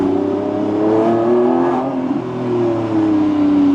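A hybrid sports car engine revving on the road, a loud, steady aggressive drone with swells of acceleration, heard up close from inside.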